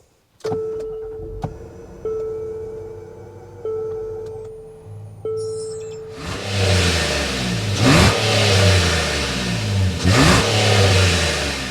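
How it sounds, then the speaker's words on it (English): A 2023 Infiniti QX60 Autograph with a V6 gives a few chimes, then its engine starts and revs hard several times in rhythmic surges, loud and close with no talk. "Let's go inside, start up so you can hear that exhaust."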